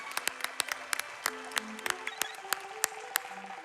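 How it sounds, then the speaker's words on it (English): Scattered claps from an audience at a charity speedrun marathon during a Legend of Zelda relay, sparse and uneven hand claps over a faint background murmur, fairly close. "That deserves a round of applause,"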